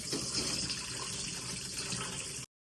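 Rose being washed under running water from a tap, a steady hiss and splash of flowing water that continues evenly, then stops abruptly before the end, with no talking.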